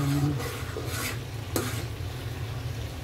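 A spoon stirs pink salmon in a pot of corn soup over low heat, giving soft scraping strokes and a few sharp metallic clinks against the pot under a gentle simmer, close and quiet.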